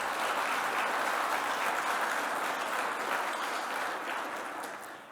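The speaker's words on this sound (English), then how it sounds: "So give yourselves a round of applause" A gathering audience at an Indigenous-led clean energy event breaks into sustained applause, an even wash of many hands clapping at moderate distance that slowly tapers toward the end.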